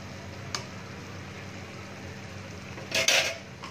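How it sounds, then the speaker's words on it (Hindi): A spoon works through a pan of potato-eggplant curry with tomato, giving a soft, low, steady scrape. A faint clink comes early, then a brief, brighter scraping burst near the end. "इसको हम अच्छे से मिला देंगे इसको टमाटर को।"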